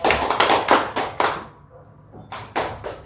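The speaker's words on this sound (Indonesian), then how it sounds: "Kalau nanti Bapak bilang tepuk An-Nas, tepuk sebanyak 3 kali." A class of standing students plays a clapping game, giving sharp loud unison claps in quick groups, a brief quiet pause, then another burst of claps close by.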